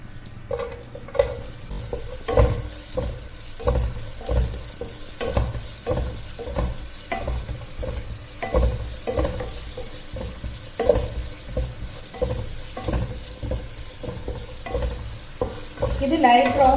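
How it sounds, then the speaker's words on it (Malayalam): Thinly sliced onions fry in a pan as they're cooked down for chicken biryani, with a steady sizzle under repeated scraping stirs in a regular rhythm. No voice is heard. "ആദ്യം ഒരു ഉള്ളി നേരിയതായിട്ട് മുറിച്ചതായത് ഇത് വാട്ടിയിട്ട് വെക്കാം"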